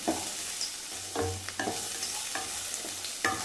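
Boiled horse gram is roasted and stirred in a pan, with irregular scraping strokes of the spoon over a low, steady sizzle, heard close up and without any talking.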